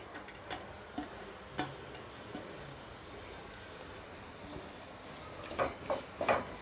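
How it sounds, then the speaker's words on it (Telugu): Onion and capsicum pieces frying in hot oil, a faint, steady sizzle with occasional soft scraping clicks of stirring, growing a little busier toward the end. "ఆయిల్ వేడెక్కిన తర్వాత ఇందులోకి ముందుగా కట్ చేసి పెట్టుకున్న ఉల్లిపాయ ముక్కలు, అలానే క్యాప్సికమ్ ముక్కలు 2 యాడ్ చేసుకోవాలి"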